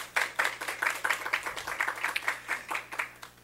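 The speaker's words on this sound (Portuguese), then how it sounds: "Uma salva de palmas, por favor." Applause after a presentation at a technical session, with several people clapping in a steady, moderately quiet rhythm, fairly close.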